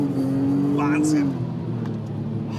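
An Audi RS4 B5 with a welded rear differential slides on snow, its engine holding a steady revving note that falls away midway into a low rumble, with voices over the car.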